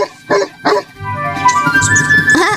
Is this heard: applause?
no